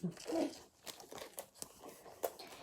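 Panini Euro 2020 sticker packets tearing and crinkling open, a few quick rips and rustles at close range, with light handling noise between them.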